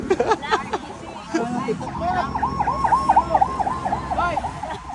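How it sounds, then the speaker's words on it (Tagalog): An ambulance siren wails in a repeating up-and-down pattern at moderate distance, with crowd chatter and voices around it at a bike race. "May ambulansya pa."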